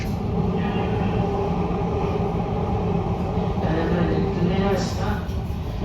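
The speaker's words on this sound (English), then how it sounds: "the next train coming was this train" An Oslo Metro train pulls into the station in an early-morning scene, a steady rumble of wheels and rail noise with a rising whine near the end, while voices carry faintly over it.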